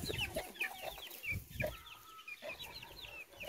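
Chickens cluck and chirp in quick, overlapping bursts nearby, a busy chatter of several birds with small chicks peeping, and no one speaking.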